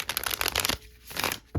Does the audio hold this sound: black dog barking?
no